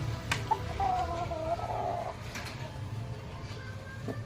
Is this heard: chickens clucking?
yes